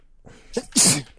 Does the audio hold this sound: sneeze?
yes